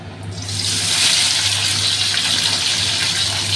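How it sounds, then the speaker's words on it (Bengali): Cut vegetables drop into hot oil in a wok for veg fried rice, and a loud, broad hissing sizzle bursts up after a brief quiet moment, then holds steady with no talking. "আমার এখানে তেলটা গরম হয়ে গেছে, আমি কেটে রাখা সবজিগুলো এর মধ্যে দিয়ে ভেজে নেব।"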